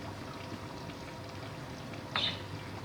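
Water pours into a pot of aloo gosht curry, a soft continuous trickle with a brief brighter splash near the end, fairly faint.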